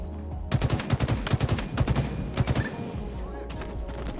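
Automatic weapon fire from the video game Halo Infinite in ranked multiplayer, rapid bursts of loud, close shots in quick rhythmic strings that stop and start over a low background.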